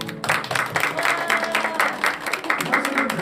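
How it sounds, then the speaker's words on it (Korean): A church congregation claps for standing lay leaders and officers, a dense round of applause from many hands with murmuring voices underneath. "박수"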